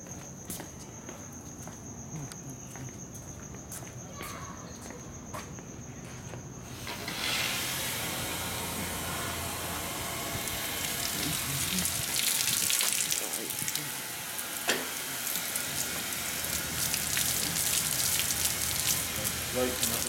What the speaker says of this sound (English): Let's rinse it off and we'll see what we get.